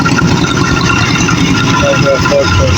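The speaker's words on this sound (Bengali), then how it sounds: "নৌকা ফট ফট শব্দ হচ্ছে" A motorboat engine chugs steadily on a river, low and continuous, partly masked by a person talking over it.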